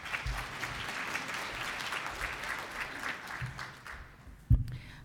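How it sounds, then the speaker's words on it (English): An audience claps steadily at a plenary session on Indigenous institutions and partnerships, a broad continuous wash of applause lasting several seconds before thinning out, with one sharp knock near the end. "Give her a round of applause, please."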